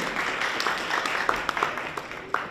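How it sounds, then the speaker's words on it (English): Conference audience at a blockchain investment event applauds speaker Reggie, a soft, steady wash of clapping from a mid-sized crowd with a few sharper claps poking through. "one more round of applause then for Reggie"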